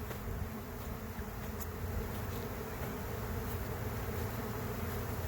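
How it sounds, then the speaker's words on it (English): A honey bee swarm fills the air with a dense, continuous buzzing drone, many insects at once, fairly faint and unbroken, with no voices. "a monstrous amount of bees"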